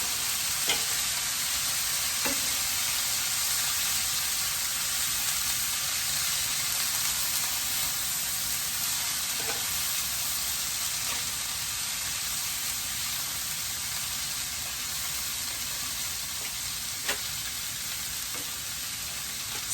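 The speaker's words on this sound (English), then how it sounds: "Listen to that sizzle." Chopped vegetables hiss and crackle steadily in hot leftover bacon grease in a pan, a continuous loud sizzle with a few faint clicks of stirring.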